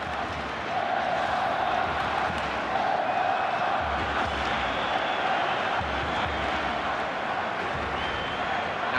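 A stadium crowd roars steadily in a FIFA 13 football video game during a Spain vs Brazil online match, a dense, continuous wash of cheering that stays at an even level throughout, sounding distant and ambient.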